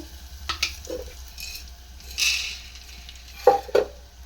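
Curry leaves and peanuts frying in hot oil, giving soft crackling sizzle and spatter bursts with occasional stirring, close and moderately loud.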